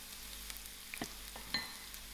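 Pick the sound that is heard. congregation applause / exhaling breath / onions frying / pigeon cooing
onions frying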